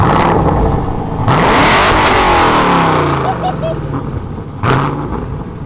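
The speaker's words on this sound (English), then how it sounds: "now we're gonna hit it with an open exhaust rev up" A loud Camaro engine with a cam revs hard through an open Varex active exhaust, climbing to a roaring peak, falling back, then blipping up again, with voices briefly underneath.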